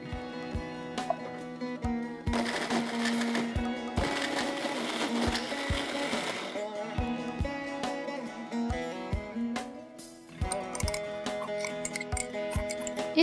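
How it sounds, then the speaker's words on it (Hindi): A mixer grinder whirs in short bursts with rhythmic ticking and clattering as it crushes fried wheat-flour dough pieces into coarse crumbs, loud and close, while steady music plays underneath; nobody speaks. "अब हम इसे मिक्सर में क्रश करेंगे"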